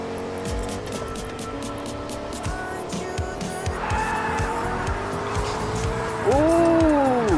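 Car drifting in Fortnite, a run of engine noise and skidding tires building to a loud, wavering tire squeal near the end, with people talking and shouting over it.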